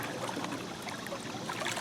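A homemade solar-powered fishing boat built from five coolers spins water burnouts, giving a steady, soft churning splash and hiss of stirred water with no talking.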